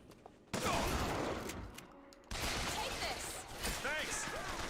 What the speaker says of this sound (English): Are you shooting me now?